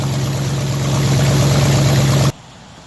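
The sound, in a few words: Dodge Durango 5.2L V8 engine running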